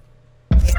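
A video game level-up effect erupts after half a second of near silence: a sudden loud, bright, full-range shimmering burst that holds steady to the end.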